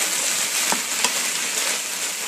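Vegetables frying in a pan with garlic being added for a low-carb shepherd's pie, giving a steady, close sizzle throughout with a couple of brief stirring clicks.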